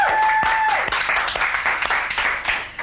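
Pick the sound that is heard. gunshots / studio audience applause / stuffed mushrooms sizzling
studio audience applause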